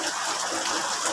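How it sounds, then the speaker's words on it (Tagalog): Rainwater leaking through a roof makes a dense, steady gushing patter, close and continuous for the whole brief moment, with no voices. "makita po ninyo ang sitwasyon kapag umuulan at ayan po napakarami pong tulo dito"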